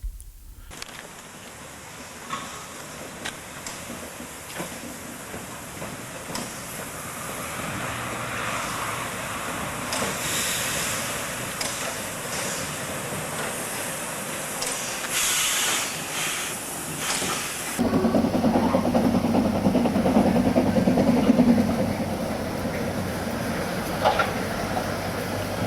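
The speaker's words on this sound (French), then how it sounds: "La machine fait le tête-à-queue et se remet en place devant sa rame avant de repartir pour Brocken" Steam locomotive hissing steadily as it runs round its train at Drei-Annen station in the Harz, a continuous broad hiss with a louder, rougher burst of steam and rumble in the last few seconds.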